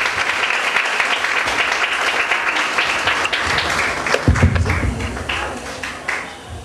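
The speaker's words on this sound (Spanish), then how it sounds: "pedirles por favor un aplauso para su presencia" An audience at a university research forum in Celaya applauds a guest's presence with sustained, fairly loud clapping. A few thumps come near the end as the applause thins and tapers off.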